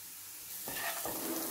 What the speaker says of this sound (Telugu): దీన్ని ఇప్పుడు బాగా మిక్స్ చేసుకుందాము